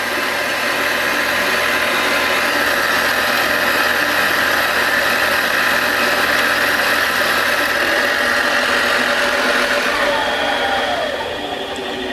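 A cheap 7x14 mini-lathe takes a 25-thousandths cut off hot rolled steel, its motor giving a steady, loud whine and hum that runs on unbroken, tapering slightly at the end.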